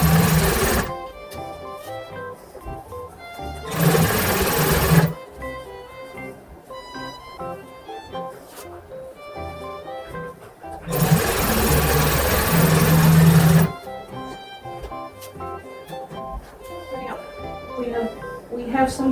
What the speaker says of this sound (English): Time to sew the pleats.